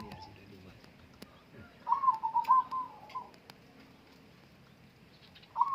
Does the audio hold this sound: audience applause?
no